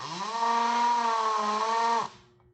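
A hand-held hammer drill runs under pressure, giving a loud, steady buzzing drone with a rough, rapid hammering texture for about two seconds before cutting off and winding down.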